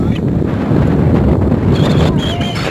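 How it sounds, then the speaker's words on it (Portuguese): Wind buffeting the microphone on a bike ride along a sandy trail near the beach, a loud steady roar and rumble filling the whole stretch, with faint voices underneath. "O vento vai pegar agora."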